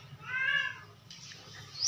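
A stray cat with open wounds on its neck and ear gives one clear, close meow, followed by faint rustling and a brief higher sound.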